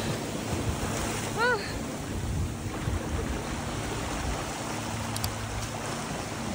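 Ocean waves surge into a sea cave at Heisler Park, Laguna Beach, making a steady, loud rushing wash. Wind buffets the microphone throughout.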